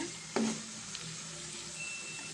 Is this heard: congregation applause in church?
no